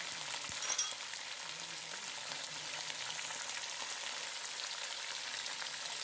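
Chicken with garlic paste sizzles in a pan, a steady, faint crackling fry with a brief clatter near the start and no talk.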